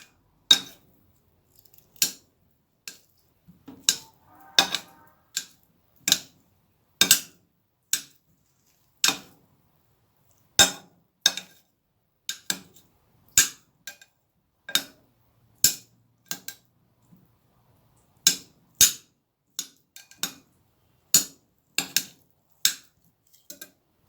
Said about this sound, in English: When I'm cutting up my Irish potatoes, I don't need them to be too regularly cut up.